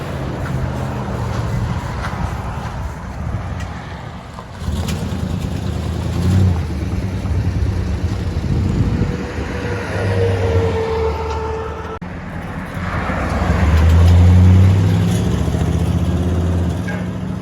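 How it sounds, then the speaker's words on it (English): A 1990 Chevy Silverado with a 5.7L V8, Flowmaster 40 series mufflers and 3-inch pipe rumbles loudly up close, idling low and then revving in swelling bursts of deep exhaust drone. "'90 Chevy Silverado. What we did is we did Flowmaster 40 series, 3-inch pipe"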